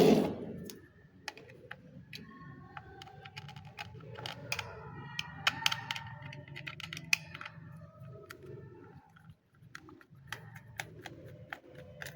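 Small clicks and ticks of a screwdriver working on a 1/28-scale KF 29 RC car body, close and fairly quiet, irregular taps and scrapes repeating over a low steady hum with no talk.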